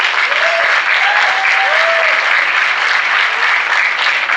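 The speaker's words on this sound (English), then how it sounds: "Round of applause," An audience at a Huawei smartphone launch event in London claps in sustained, dense, loud applause, with a few faint whistles or cheers rising above the crowd.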